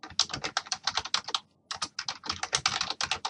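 Fast, close and crisp typing of PHP form code on a computer keyboard, steady runs of key clicks broken by one short pause, with no voices.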